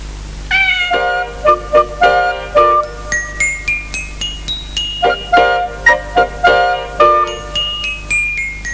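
Cartoon cats meow in a rapid run of short, bright, tuneful calls, loud and close, over a jingling musical backing in a children's show.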